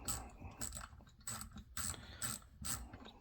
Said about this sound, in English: 1/2 3/8 and this quarter ratchet and the NASCAR, brand new in the box.